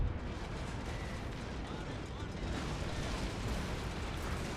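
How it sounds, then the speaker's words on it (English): Naval battle explosions in the game Pike and Shot, a dense continuous roar of rumbling blasts and booming fire filling the whole stretch, loud and unbroken. "Everyone's really just exploding."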